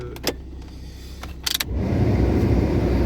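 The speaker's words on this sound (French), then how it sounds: "comment je viens de démarrer la moteur là" A car engine turns over and catches after a few clicks and mechanical clunks, then settles into a steady, loud idle rumble up close.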